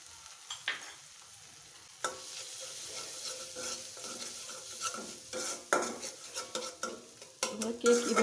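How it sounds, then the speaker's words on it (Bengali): Coconut, nut, cumin and ginger-garlic pastes frying in a pan for a spicy prawn dish, a steady soft sizzle with repeated scraping stirs and clattering utensil knocks throughout. "এখানে দিয়ে দিচ্ছি নারকেল বাটা, বাদাম বাটা, জিরা বাটা, আদা রসুন পেস্ট, সবগুলো দিয়ে কষিয়ে নিব।"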